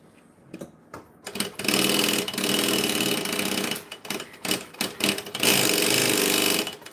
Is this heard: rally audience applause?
no